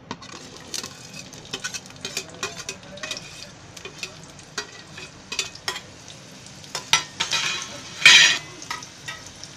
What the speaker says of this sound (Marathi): आता मी त्याच्यासाठी हा कांदा ठेवला आहे फ्राय करायला.